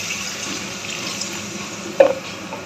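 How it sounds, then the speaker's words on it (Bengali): Water pours into a pot of fish curry after the spices are fried down, a steady hiss with a brief louder splash near the end. "এই যে জল দিয়ে দিলাম"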